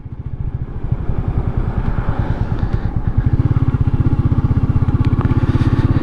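A Royal Enfield Meteor 350 motorcycle is ridden, its single-cylinder engine thumping in a steady, close, loud rhythm that quickens slightly as it picks up pace.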